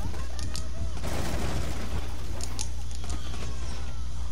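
Bursts of gunfire in the tactical shooter Rainbow Six Siege crackle through a steady game backdrop, with a few sharp shots standing out near the start and later. Players talk over the action.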